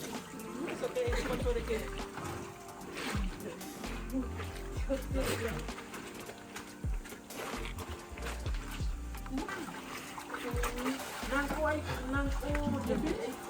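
Hand-washing of pants in water in Guatemala: wet sloshing, trickling and splashes recur up close throughout, mixed with ongoing conversation.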